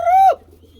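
A single short coo from a fancy pigeon, close and clear, a smooth rising-then-falling note lasting about a third of a second before quiet.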